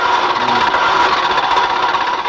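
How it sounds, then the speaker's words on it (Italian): A car engine being started, giving a loud, steady mechanical drone with rough vibration and rattle that carries unbroken from start to end, close by. "Metta in moto, per favore."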